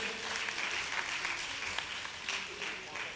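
An audience at a Palakkad district public function applauds to welcome the Kuzhalmannam grama panchayat, a busy patter of clapping with a voice speaking over it.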